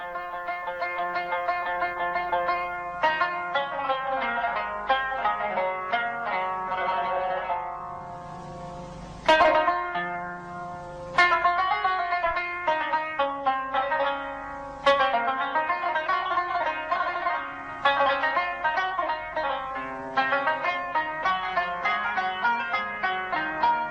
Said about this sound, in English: Qanun sounds like this.